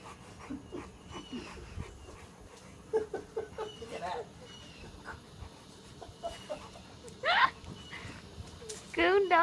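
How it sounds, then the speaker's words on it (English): A dog playing with a raccoon outdoors, with soft yips, whimpers and squeaky chirps over a steady background hiss, loudest toward the end; people murmur faintly nearby. "Dog and a coon playing."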